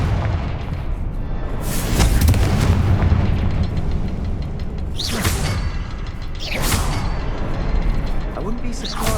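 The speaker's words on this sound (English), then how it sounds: "Confringo." Confringo fire spell explosions in Hogwarts Legacy, with a dense, rumbling game soundscape and two sharp whooshing blasts, the second loudest, heard over steady background noise.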